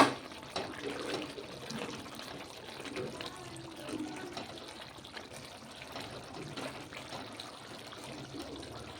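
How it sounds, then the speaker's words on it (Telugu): Goat liver curry simmers in its own released water over a medium flame, giving a soft, steady bubbling and gurgle. A faint voice comes and goes over it. "ఇప్పుడు మీడియం ఫ్లేమ్లోనే ఉడుకుతుందండి."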